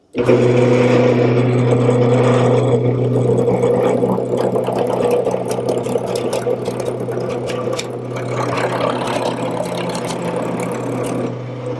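Wood lathe spinning a workpiece round while a tool rests against it, for a quilt rack in a woodworking shop: a loud, steady motor drone with a gritty cutting scrape that grows rougher partway through, close and continuous.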